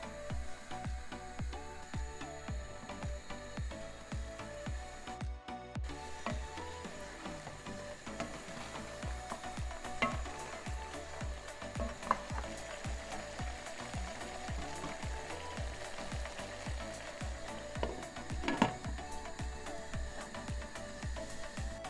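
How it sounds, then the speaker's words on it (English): Jamaican brown stew chicken gets stirred in a pot, with continuous crackling sizzle and dense scraping, clicking spoon sounds throughout, close and fairly quiet, with no talking. "I'm going to give it a stir and replace the lid and leave to cook."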